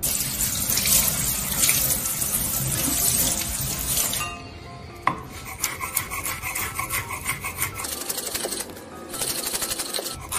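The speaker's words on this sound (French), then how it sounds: "Le persil. On va le rincer hein, avant de le hacher." Tap water runs steadily into a sink while parsley is rinsed under it, then the flow eases into rustling, rubbing and splashing as the leaves are handled, close and loud, with no talk.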